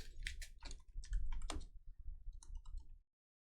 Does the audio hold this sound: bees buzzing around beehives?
no